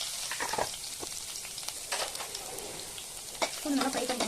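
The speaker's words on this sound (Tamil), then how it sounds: "பூண்டு நல்லா ஃப்ரை பண்ணிக்கோங்க" Garlic fries in oil in a kadai with a crackling, spitting sizzle up close, broken by scraping stirs and a couple of sharper pops; a voice is faintly present.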